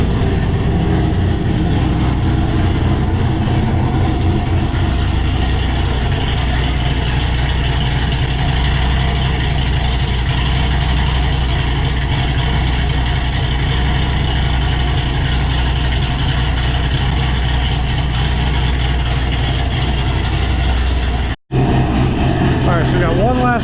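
A cammed Ford Shelby GT500 idles steadily and loudly up close on its finalized tune, a dense low rumble holding for over twenty seconds with a brief cutoff near the end before resuming.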